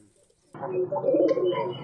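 Pigeons coo at a pigeon farm, a close, soft burbling call that begins after a brief quiet moment and carries on steadily to the end.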